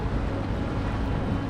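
Steady low rumble of a boat out on calm, flat sea water, with soft wind buffeting the microphone throughout and no talking.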